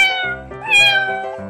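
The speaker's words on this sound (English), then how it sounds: "cat," A cartoon cat gives a long, bright meow that rises and falls, loud and alone with no talking over it.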